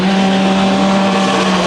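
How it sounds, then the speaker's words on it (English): A 4-door Audi and a 2-door Porsche 911 launch together in a drag race, a loud, steady engine roar with strong tonal drone filling the whole stretch, no pauses or talk. "Couple of drastically different cars, the 4-door Audi and the 2-door Porsche 911."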